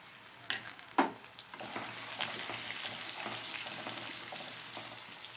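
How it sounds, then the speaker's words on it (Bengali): Cubed potato and soaked soybean frying in a pan, a couple of sharp knocks from stirring at the start, then a steady moderate sizzle with occasional scrapes, no voices. "এটাকে ভালো করে ভেজে নেব।"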